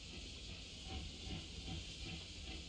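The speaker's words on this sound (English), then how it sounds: "Only a man like you can make something as wild as this steam tank here." A steam tank in the video game Octopath Traveler hisses with a faint, steady, even rush that never pauses, quiet and alone.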